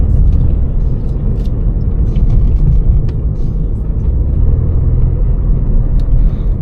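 BMW F30 328i engine pulling hard under acceleration in third gear, a loud, steady low rumble and drone from inside the car that holds continuously with no pauses or gear changes.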